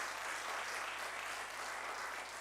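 Steady applause from a church congregation, a dense wash of clapping that continues evenly throughout, somewhat distant and moderately quiet.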